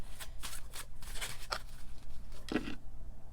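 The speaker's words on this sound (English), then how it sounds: "I was just shuffling." Tarot cards are shuffled by hand in quick bursts of papery riffling and soft slaps, close and fairly loud, with a brief knock near the end and no talking.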